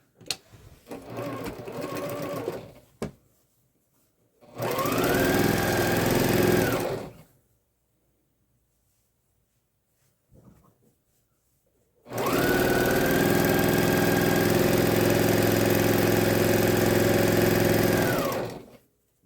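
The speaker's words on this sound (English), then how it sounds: "I'm going to just lay that right on top and we're going to sew this." A sewing machine stitches quilt fabric strips in a studio. It whirs steadily in a short burst, stops, and then runs again in a longer continuous stretch, loud and close, with a brief pause and a faint clatter between the runs.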